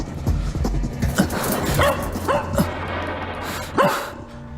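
A puppy yips and barks in short, high-pitched bursts, several scattered yelps close by over a low background hum.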